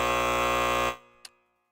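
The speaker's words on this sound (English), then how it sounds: "Let me give myself the buzzer." A harsh, game-show-style buzzer blares as one loud, sustained tone for about a second before cutting off sharply, followed by a brief faint blip.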